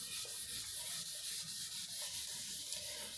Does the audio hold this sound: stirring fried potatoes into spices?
no